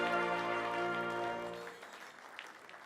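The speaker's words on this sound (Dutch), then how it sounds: "En dan voor een staande ovatie voor deze leerlingkok." Audience applause for an apprentice cook at a ceremony in the Gouvernement in Maastricht, sustained clapping under a sustained musical chord that fades out after about two seconds.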